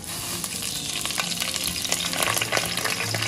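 Curry leaves frying in hot coconut oil, giving a dense continuous sizzle and crackle with a few sharper pops, close and steady throughout without any talking.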